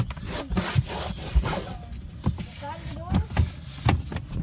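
A rag rubs and scrubs inside the cup holders of a Cadillac, with repeated short scraping strokes in an uneven rhythm close to the microphone, and a voice speaks intermittently between them.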